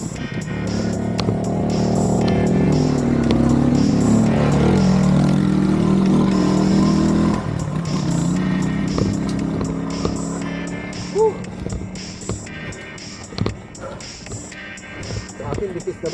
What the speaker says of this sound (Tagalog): May motor pa.